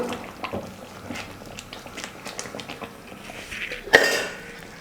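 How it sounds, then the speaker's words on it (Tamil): A ladle scraping and stirring potato masala in a pan on the stove: soft repeated scrapes and clinks of metal on metal, ending in one louder clank, close by with no talk. "அப்பப்போ கரண்டி வச்சு கொஞ்சம் கலந்து கொடுங்க, அடி பிடிக்காமல் இருக்கணும்"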